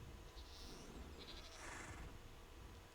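Goats bleat in a Minecraft video game zoo, with a couple of drawn-out bleats over a steady low background hum, moderately close and with no talk.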